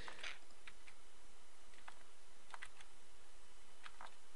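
Scattered clicks from a computer keyboard during a game session, faint and sparse taps in small bursts over a constant low background hum, no speech.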